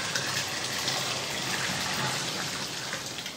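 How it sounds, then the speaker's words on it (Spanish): Boiled water poured back and forth between containers to aerate and cool it, a steady continuous splashing gush lasting the whole moment, close and fairly loud. "así se golpea el agua"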